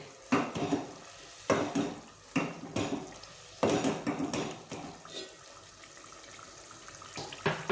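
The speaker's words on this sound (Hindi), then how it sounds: "अब हम इसमें जितना आपको ग्रेवी रखनी है उसके हिसाब से पानी शामिल कर दीजिए।" Water splashes and pours into a pan of egg curry gravy in several short bursts, with stirring and gentle sizzling in between, close up and without talk.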